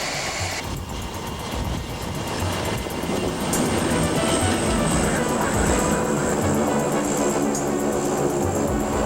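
Carrier aircraft taxiing on a naval flight deck, from a 1988 documentary: a loud, continuous roar of jet engine noise with a high whine on top, steady and close throughout.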